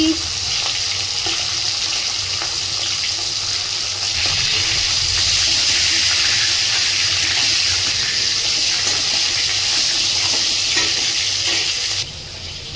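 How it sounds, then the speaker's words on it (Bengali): A katla fish head fries in hot oil in a pan, giving a loud, steady, close sizzle that holds for most of the stretch before dropping off sharply near the end. "তো মাছের মাথাটা ভাজা হতে থাক।"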